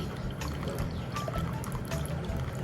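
A continuous trickle of water dripping through a cloth filter, splashing down steady and close, with no voices.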